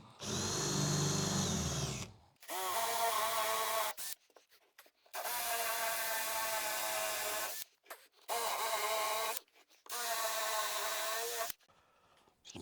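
A power drill bores into wood for a woodworking project, a loud close whine in four sustained bursts of about two seconds each, separated by brief silences.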